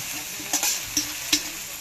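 Salt frying with chopped onions, chilli and garlic in a hot pan, a steady close sizzle with three quick spatula scrapes and taps as the mixture is stirred, no voices.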